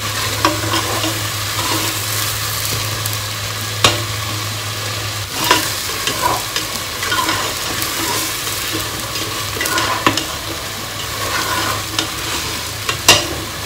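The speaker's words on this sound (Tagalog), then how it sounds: "Igigisa din po natin siya mga 5 minutes para manuot po yung lasa." Pork and other pochero ingredients sauté in a hot pan: a constant oily sizzle broken by the scrape and clack of a spoon stirring at irregular intervals, close and fairly loud, with no one speaking.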